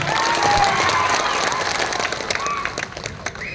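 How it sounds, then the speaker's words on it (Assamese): A crowd applauds to welcome a guest at a gathering, a loud, sustained burst of clapping that thins out toward the end, with faint voices mixed in. "আপোনালোকে এটা হাত চাপৰি দিব পাৰে।"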